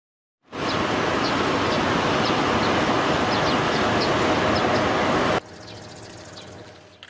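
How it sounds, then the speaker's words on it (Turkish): Kim Jong-un's green train rolls into a station, a loud, steady rumble of rail noise with faint squeals above it that drops off suddenly into a quieter hum near the end. "Yeşil treniyle istasyona yanaştı."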